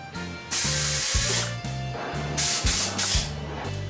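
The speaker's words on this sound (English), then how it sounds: "I'm gonna have to use compressed air to get them out." Compressed air hissing in several sharp bursts to work off mountain bike grips, loud and close, with brief pauses and a steady mechanical hum underneath.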